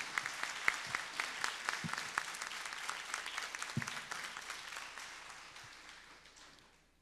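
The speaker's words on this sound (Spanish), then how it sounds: "quiero que se regalen un fuerte aplauso por estar entre nosotros" A room full of people at a book presentation applauding, brisk dense clapping that gradually thins and fades toward the end.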